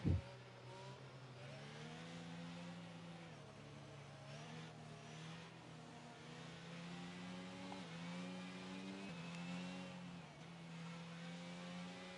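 Safety car engine on board in F1 22 at the Hungarian Grand Prix, a steady mid-pitched hum with rising and falling revs, held throughout at constant loudness with no talking.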